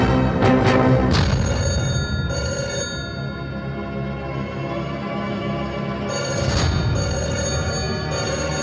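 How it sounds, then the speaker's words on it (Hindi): A telephone rings with repeated bright electronic trills in bursts, loud and close, over steady background noise. "कब से फोन बज रहा है"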